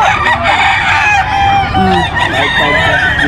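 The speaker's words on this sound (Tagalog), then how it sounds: "Ito naman po is bull stag, katamtamang gulang." Gamefowl bull stag crowing at the Bocaue market, a loud, close, drawn-out crow filling the moment, with other fowl calling faintly in the background.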